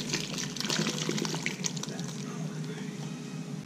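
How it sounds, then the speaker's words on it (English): Cream pours over a rabbit in a cooking dish, a continuous liquid trickle and splash that stays steady and close, with light clinks above it. "I'm going to just take this, pour it right over our rabbit"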